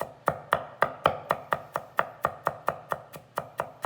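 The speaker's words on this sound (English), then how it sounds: "Once I get done dicing it, I like to get a little smaller pieces" A knife dices shallots on a cutting board in a steady run of about fifteen crisp, evenly spaced chops, each a sharp close tap with a short ring, alone without talk.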